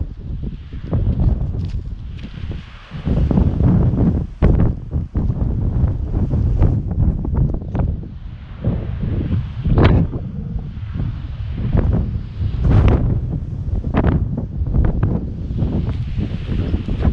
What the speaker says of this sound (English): This wind might be a factor